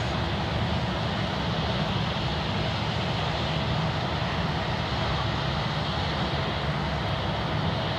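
An All Nippon Airways airliner at Sydney airport produces a steady, distant engine roar, an even broadband drone that holds constant without change or speech.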